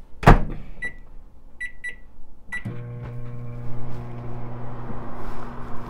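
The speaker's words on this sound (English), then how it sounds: "microwave for 1 minute and we will check and put it back for another minute" A loud clunk, then a few short electronic beeps, followed by a steady low hum of a microwave oven running with a faint rattle while heating bread pudding in a mug.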